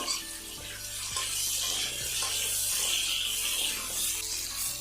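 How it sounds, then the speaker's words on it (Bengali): Cut raw mango pieces frying lightly in a pan, a steady hissing sizzle over a low background hum. "এবার দিয়ে দেবো কেটে রাখা কাঁচা আম তাতে আমগুলোকে হালকা করে একটু ভেজে নেব"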